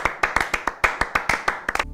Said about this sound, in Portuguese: Bateu uma salva de palmas aqui pro profissional.